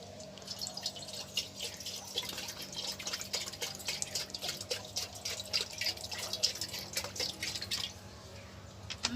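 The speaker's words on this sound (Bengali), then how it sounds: "এবারে আমি এতে জল দিয়ে দেব।" Water is poured from a tap into a pan on the stove, a close, uneven splashing and trickling with irregular bursts over a low steady hum.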